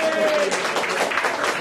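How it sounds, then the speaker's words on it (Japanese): Audience applause at an adult party event with a band, a broad, sustained wash of many hands clapping, loud and even for under two seconds, with a brief tonal voice or whistle early on. "お二方にもう一度盛大な拍手をお願いいたします"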